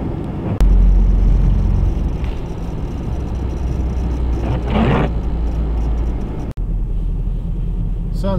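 A car rolls along the road toward a Grand Canyon trailhead at dawn, its interior rumble low and steady throughout, with a brief muffled voice partway through.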